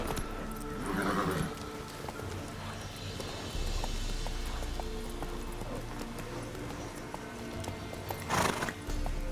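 Horse hooves clip-clopping at speed in The Witcher 3: Wild Hunt video game, a steady rhythmic beat with a neigh and snort bursts over game ambience.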